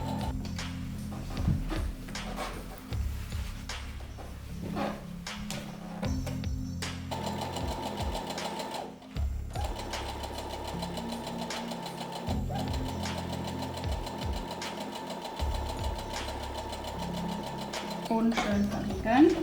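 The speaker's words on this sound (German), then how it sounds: "In der Rundung könnt ihr langsam nähen, damit sich keine Falten legen." A sewing machine stitches summer shorts fabric, its motor whirring and needle thumping in steady rhythmic runs that stop and restart several times, sewing slowly around a curve, while someone talks over it.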